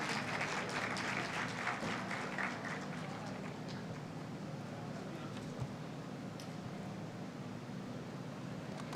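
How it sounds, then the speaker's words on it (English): An audience at the International Conference on World Religions applauds an honoree, a faint, steady patter of clapping heard at a distance under a low, continuous hum, with no clear voices. "In a warm round of applause"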